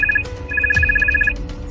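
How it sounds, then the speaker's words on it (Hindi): A mobile phone rings with a bright, repeating electronic ringtone, short pulsed tones interrupted briefly near the start and then continuing steadily, loud and close with no talking. "सीमा का फोन फिर बजने लगता है"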